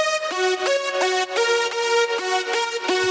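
Bright, wide unison saw synth layer with two detuned oscillators, playing a rhythmic sequence of sustained chords with regular pulsing gaps, loud and alone.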